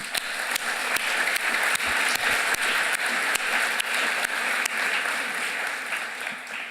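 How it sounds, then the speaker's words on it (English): An audience at a conference opening ceremony applauds steadily, a continuous wash of clapping held at an even level throughout before easing slightly at the end. "So I particularly want to just applaud you, Karina, for all the work you've done."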